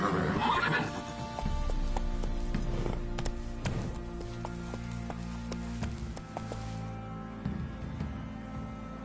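Roach, a horse in The Witcher 3: Wild Hunt, whinnies loudly near the start, then gallops in steady clip-clop hoofbeats layered over game music and ambience.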